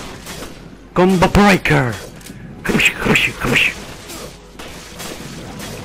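Gunshots in Resident Evil Revelations, a few sharp reports scattered among loud, excited talk from a player, close and punchy rather than a sustained burst.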